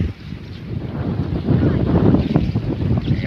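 Strong storm wind sweeps through Gathka village in Gujarat, roaring and buffeting hard against the microphone in uneven gusts that grow louder partway through.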